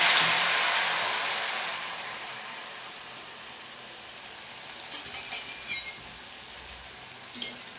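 Food dropped into hot oil for deep-frying sets off a loud hiss that gradually settles into a steady, quieter sizzle with a few small pops.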